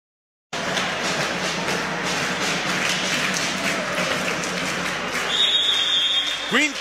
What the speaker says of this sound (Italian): quinto fallo per Longobardi, esce tra gli applausi, paletta numero 5 per lui.